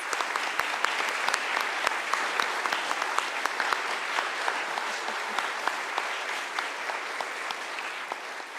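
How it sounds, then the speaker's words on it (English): Sustained applause from an audience at a speech contest, a dense, even wash of many hands clapping that holds steady throughout, moderately distant and without talk. "let's give them all a final round of applause."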